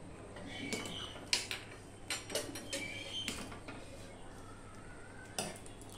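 Vegetarian bhog khichuri being served with utensils, gas off, with light scattered clinks and scrapes of a spoon against pots and plates, faint and intermittent over a steady low background hum.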